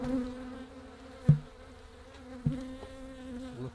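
Honeybees swarm in an opened hive, a dense, steady close-up buzz with a couple of brief louder bumps as insects pass near.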